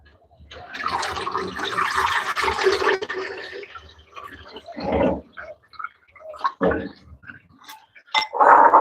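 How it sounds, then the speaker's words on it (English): White Pishori rice rinsed with water in a bowl: a sustained splashing, swishing wash for about three seconds, then scattered closer sloshes and drips in short bursts. "I wanna rinse the rice, as you can see"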